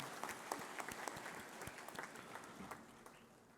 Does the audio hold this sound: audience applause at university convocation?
yes